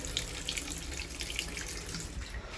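A wash basin tap runs steadily into the sink, a continuous close hiss of flowing water with no voices.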